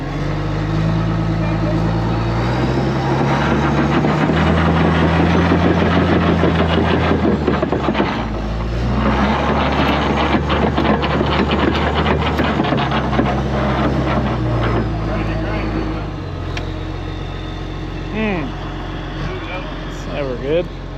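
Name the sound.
bulldozer making a grinding noise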